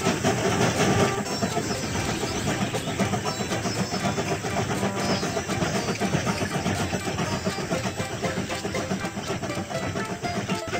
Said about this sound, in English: Pull the slide bar to start the engine.